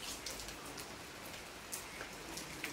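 Rain falling outside with water dripping, a faint, even wash of rainfall punctuated by a few distinct drips, with no talking.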